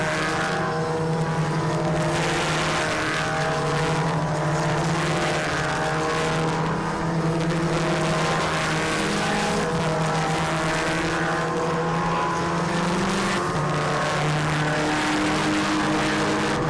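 Volkswagen Polo race cars in the MRF MMSC Volkswagen Championship 2021 roar around a track, their engines making a sustained, loud, droning whine that shifts pitch as the pack accelerates, continuous throughout with no speech.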